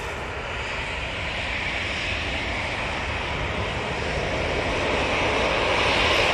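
A VistaJet private jet on its takeoff roll at Manchester Airport, a steady broadband engine roar that holds loud and slowly builds over several seconds, heard from a distance with no other sounds.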